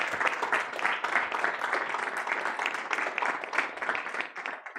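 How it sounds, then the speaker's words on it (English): An audience applauds a speaker at an evening startup event, a dense, steady patter of many hands clapping that carries on throughout at moderate loudness. "So please have a big round of applause for our speaker round here tonight."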